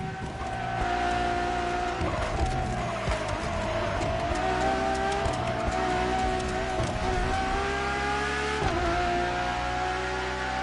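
Ferrari Enzo supercar in The Crew Motorfest driving game, its engine holding a loud, steady high-revving drone with brief gear-shift dips, tonal whine continuous throughout at close range.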